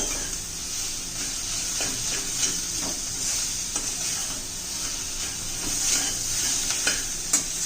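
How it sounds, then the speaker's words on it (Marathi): Rice flour ball mixture stirred and tossed in a pan, a steady sizzling hiss with scattered light scrapes and clinks of a spoon against metal, close and continuous without talk. "व्यवस्थित मिक्स करून घेऊयात आपण"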